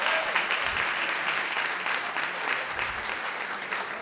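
An audience at a praise and worship evening applauds steadily, a dense and even wash of many hands that continues for about four seconds with no break.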